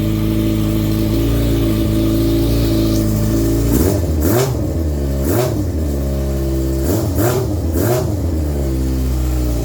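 A rebuilt first-generation Yamaha R6 motorcycle engine runs at a steady close idle, then gets several short throttle blips that rise and fall in pitch, all loud and with no talking.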